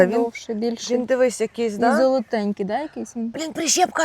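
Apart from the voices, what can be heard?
No distinct noise like a dog, phone or traffic.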